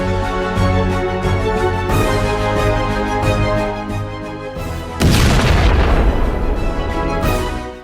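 A deep, rumbling grenade explosion blast near a trench, with a sustained roar, followed by a second heavy burst of debris-like noise, loud and dense.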